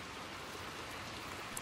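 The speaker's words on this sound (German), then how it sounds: "Im Regen starten wir." Rain in the Little Nightmares 2 video game falls as a steady, even hiss of drops on surfaces, constant throughout with no voices.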